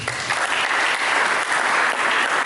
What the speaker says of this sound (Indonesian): Sambut dulu dengan tepuk tangan.